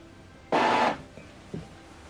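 An Epson XP-4205 inkjet printer initializes after ink cartridge setup, giving one short, close mechanical whir of under half a second, then a pair of faint clicks in a quiet room.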